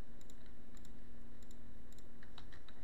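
Typing on a computer keyboard, light clicks arriving in small clusters of two or three keystrokes over a constant background hum, soft and close.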